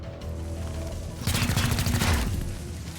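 A burst of automatic gunfire in XCOM Chimera Squad, a rapid rattling volley about a second long rising loud over a low electronic hum, then fading.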